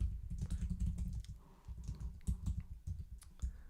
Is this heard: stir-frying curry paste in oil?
no